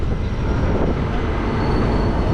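Steady, loud rumble and rattle of the Kannur–Ernakulam–Velankanni bi-weekly express moving past platform 5, a continuous broadband roar of wheels on rail heard from on board, with no pauses or talk.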